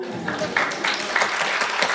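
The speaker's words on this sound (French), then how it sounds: "On l'applaudit plus fort" Audience applause at a birthday evening gathering, a steady patter of clapping with a few louder bursts, moderately close, some voices mixed in underneath.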